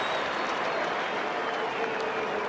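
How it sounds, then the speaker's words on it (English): A stadium crowd at a 2013 AFL match between Port Adelaide and Gold Coast roars and applauds after a goal, a dense, continuous wash of cheering and clapping at even loudness. "The applause tells the story."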